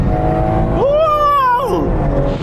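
Drag race cars, a 750hp Nissan Skyline R34 GT-R, a 735hp supercharged Mustang and a BMW M3, roar under hard acceleration, a loud close engine note rising in pitch then dropping back as a gear change hits.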